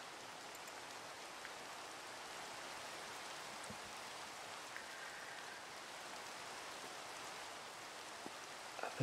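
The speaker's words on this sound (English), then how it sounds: "Here comes the rain." Steady rain falls in Minecraft, a continuous even hiss of drops spread across the whole stretch with no talking over it, moderately loud and unbroken for the full length.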